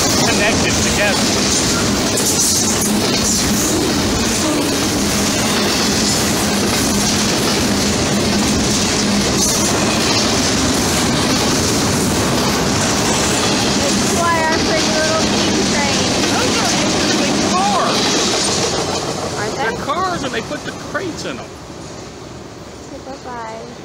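A heavy freight train rolls past in Conyers, Georgia, a loud continuous roar of wagons with rhythmic clattering and squealing wheels, close by, fading slightly at the end.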